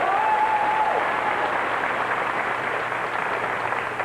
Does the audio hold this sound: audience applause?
yes